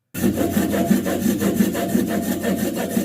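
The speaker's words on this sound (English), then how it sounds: "Listen to the sound as he cuts it. Locally baked country bread." A knife saws through a crusty loaf of locally baked country bread, its rough, rasping strokes repeating steadily and close up, loud and dry with no talking.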